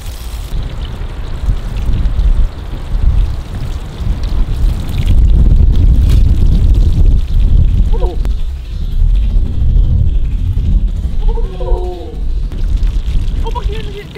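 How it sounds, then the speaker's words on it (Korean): Strong wind gusts buffet a winter campsite, a loud broadband rumble and roar that swells and surges throughout, with brief voices heard beneath the blustery noise. "바람이 참 불린다"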